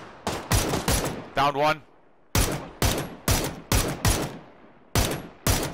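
Gunfire in a PUBG match: repeated loud, close single shots in an uneven rhythm with short pauses between them. A voice speaks briefly between the shots.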